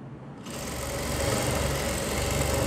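Sewing machine stitching pant fabric, starting after a brief near-silent moment, then a steady, loud, continuous mechanical whir and rapid needle rattle running without a break, with no talking.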